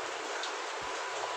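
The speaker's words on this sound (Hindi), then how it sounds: "बाहर बारिश बहुत हो रही है" Steady rain pouring in Minecraft, a dense continuous hiss with no talking.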